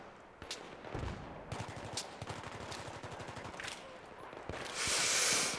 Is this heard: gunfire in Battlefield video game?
yes